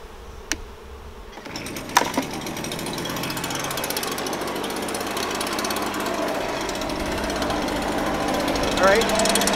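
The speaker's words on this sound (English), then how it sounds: "Okay, we'll get the blower going." A blower runs during bee beard handling, a continuous loud mechanical rushing drone close by, with a busy buzz through it and voices talking over it.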